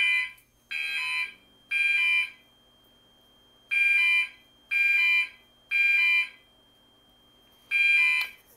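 An older Gentex fire alarm sounds after a pull station is pulled, blaring loud, harsh horn blasts in a repeating temporal pattern of three bursts, a pause, then more, close and with no talking.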